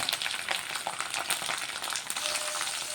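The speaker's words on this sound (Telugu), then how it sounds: "లైట్గా పచ్చిమిర్చి అయితే ఫ్రై అవుతున్నాయి" Green chillies fry in a pan with a steady, close sizzle and crackle, with a few light scrapes from stirring and no talk.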